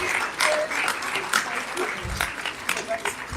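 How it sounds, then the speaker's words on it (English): A crowd applauds steadily, dense clapping that holds at one level for a few seconds, with a few voices rising through it. "Another round of applause, ladies and gentlemen."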